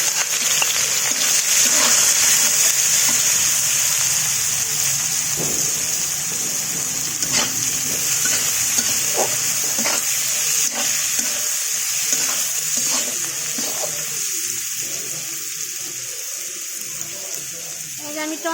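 Chopped onion frying in oil over whole dried chillies, whole garam masala and bay leaves for a potato, tomato and chicken curry, a loud steady sizzle with scattered clinks and stirring scrapes that eases slightly toward the end.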